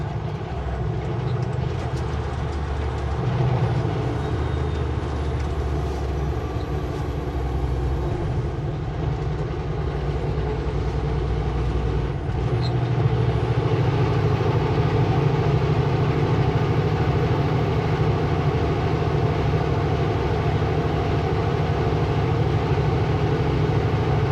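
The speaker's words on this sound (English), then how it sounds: "Train rolling on the other side. That would be a Canadian Pacific" A Canadian Pacific train rolls by on the far side of the road near Kamloops, heard from inside a heavy truck as a steady broad rumble mixed with the truck's own road drone, with no talk.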